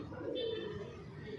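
Soft, low cooing from a Punjabi Malwai pigeon, heard faintly and close against a steady background hum, with no voices.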